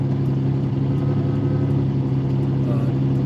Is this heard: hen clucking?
no